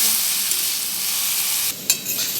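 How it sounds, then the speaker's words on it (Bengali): Potatoes fry in a pan over a lowered gas flame while being stirred, giving a steady, close sizzle that runs throughout, broken near the end by a brief scrape and clatter of the stirring utensil. "এবার গ্যাসের আঁচটা কম দিয়ে নাড়ছি"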